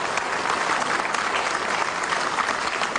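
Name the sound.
audience applause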